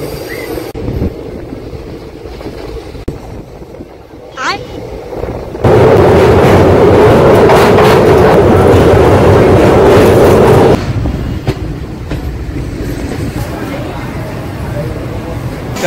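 The Tirupati–Puri Express runs into Vijayawada with a loud, rumbling wheel roar that swells for several seconds, then eases back to a quieter hum of carriage noise.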